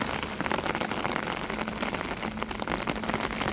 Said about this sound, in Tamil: பாருங்க மழை கொட்டிக்கிட்டு தான் இருக்குது, இன்னும் விடாம.